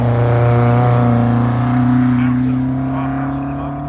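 A Westfield SEW race car with a 1.6 litre Ford C-Tech engine runs a hillclimb at Harewood, its loud, tonal engine note holding strong close by and then fading as it pulls away.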